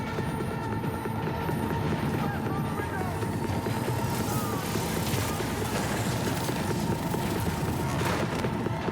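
Helicopter rotor drone from Cyberpunk 2077: Phantom Liberty, a steady loud whirring wash with rumbling combat noise underneath, continuous throughout without letup.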